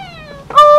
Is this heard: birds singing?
no